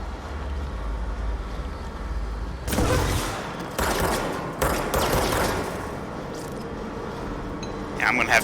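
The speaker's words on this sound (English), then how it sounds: "He's got a minigun." A minigun fires in the video game Control. Loud, dense bursts of rapid fire cut in over a steady rumbling background, with a later short burst near the end.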